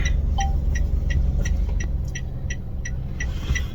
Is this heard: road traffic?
yes